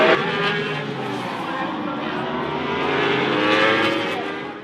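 Racing engines at a British Superbike race at Brands Hatch on a wet day drone in a steady, swelling roar from across the circuit. Voices talk over the noise.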